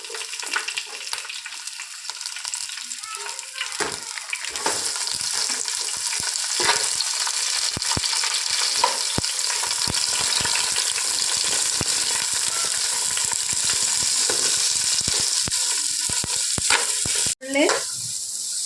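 Three onions fry in coconut oil in a pan for a Kerala-style beef roast: a continuous close sizzle with occasional stirring clatter and a brief break near the end.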